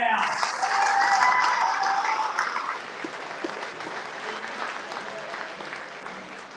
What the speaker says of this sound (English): So give a big round of applause for our team at the Munich Brauhaus.